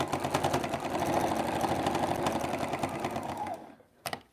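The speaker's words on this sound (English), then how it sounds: "I am just going to stitch to the corner." A sewing machine stitches a snowman mug rug quilt to the corner in a steady, continuous mechanical whir that runs loud and close, then stops abruptly near the end, leaving a brief clack.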